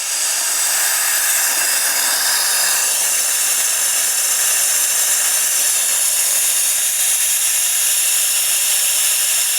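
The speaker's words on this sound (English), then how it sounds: "compressed air." Compressed air blasts steadily into a brake bleeder hose, a loud, continuous broadband hiss that holds constant for the whole stretch with no pauses.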